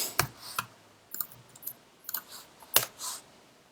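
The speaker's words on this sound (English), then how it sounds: "I am really mashing this keyboard." A computer keyboard is mashed during coding, giving irregular bursts of sharp, close clicking keystrokes, some single and some in quick clusters, with quiet gaps between them and no talk.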